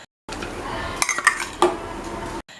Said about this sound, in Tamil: நல்லா மிக்ஸ் பண்ணி விட்டுக்கணும்